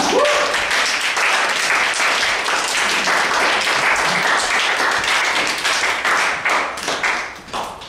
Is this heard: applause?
yes